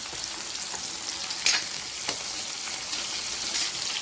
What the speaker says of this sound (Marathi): आपली मिरची पण अशी छान तळून झालेली आहे